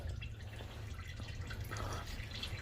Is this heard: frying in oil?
no